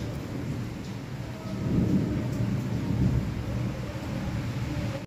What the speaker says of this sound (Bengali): এত জোরে জোরে মেঘ ডাকছে